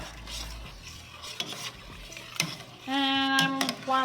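Handfuls of rough-chopped ingredients for chicken paprikash being stirred in a pan, with soft scraping and clinking over a low sizzle, then a bright sustained tonal ring near the end.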